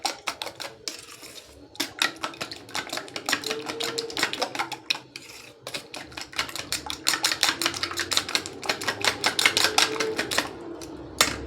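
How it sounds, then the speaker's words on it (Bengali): Eggs with cumin powder and green chillies are beaten briskly in a bowl, producing rapid, steady clicking strokes, close and moderately loud, with brief pauses between bursts. "এটা ফেটিয়ে নেব ভালো করে"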